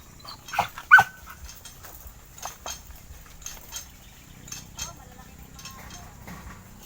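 A pet dog barks a few sharp times close by early on, then goes quiet amid faint household sounds and soft background noise.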